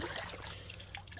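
Water poured into a pool heater protector trickles and splashes straight through the part instead of being held back, a steady close liquid running sound with a couple of brighter splashes near the end.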